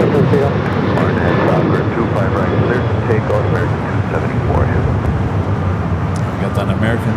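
An American Airlines Boeing 777-200ER airliner on its takeoff roll from runway 25 right at Los Angeles airport, a loud continuous engine roar close by, overlaid with air traffic radio talk.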